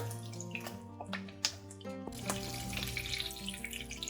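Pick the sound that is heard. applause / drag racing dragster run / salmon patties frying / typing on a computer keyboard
salmon patties frying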